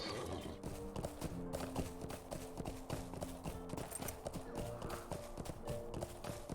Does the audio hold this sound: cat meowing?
no